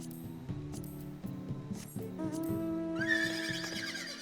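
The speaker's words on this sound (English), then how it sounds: "The horse is here." A horse neighs in Final Fantasy XIV: A Realm Reborn, a drawn-out whinny with layered tones that rises near the end, heard alone over a steady background of game sound.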